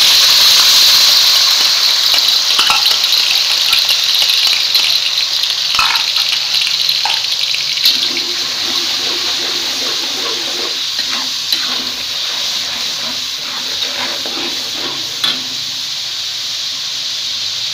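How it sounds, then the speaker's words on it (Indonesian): Ground spice paste for chicken curry hits hot oil and fries with a loud, steady sizzle and hiss that slowly eases, broken by occasional stirring clinks and scrapes of a utensil in the pan. "di sini saya sudah siapkan minyak secukupnya saja untuk menumis bumbu halusnya"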